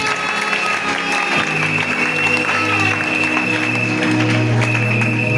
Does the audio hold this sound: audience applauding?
yes